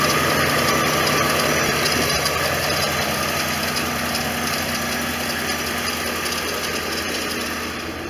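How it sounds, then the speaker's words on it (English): A 1989 Corvette Roadster engine idles steadily close by, a continuous mechanical drone with the whirring hum of the smog pump, easing slightly at the end. "I can hear the smog pump."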